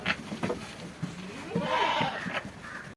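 Several male goats, a farm's breeding bucks, bleat nearby in a wavering drawn-out call, with a short rougher bleat before it and faint speech underneath.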